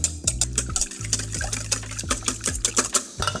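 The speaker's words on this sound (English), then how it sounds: "Give that a whisk" A whisk beats eggs and cream in a bowl for French toast, making quick, rhythmic clinking and sloshing strokes close up over soft background music.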